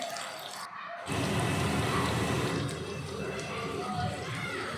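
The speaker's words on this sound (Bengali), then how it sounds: "এখন জল ফুটিয়ে রেখেছি ঝোল দিয়ে দিলাম" Water poured into a pot of mutton curry, a steady close wash of pouring and splashing that starts abruptly and keeps going loud to the end.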